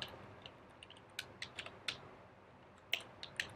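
Sparse, quiet key clicks from a computer keyboard while code is typed, landing in small irregular clusters over a steady low room hiss, with no talking.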